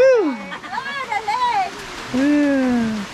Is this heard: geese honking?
no